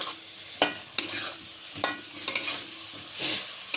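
Banana flower fritters are frying again with spices in a pan, giving a steady soft sizzle broken by several sharp stirring scrapes and clacks spread unevenly through the moment.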